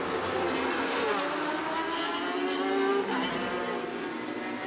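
Racing motorcycles at the 2023 Macau Motorcycle Grand Prix, the 55th edition's 12-lap final on the street circuit, scream past at high revs. The loud, continuous engine whine rises and falls as the bikes go by.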